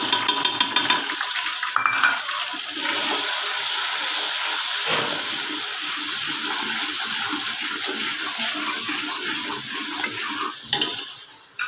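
A faulty household tap in a village kitchen runs water in a steady, loud rush for several seconds, starting and stopping abruptly. Frying sounds close by can be heard before and after.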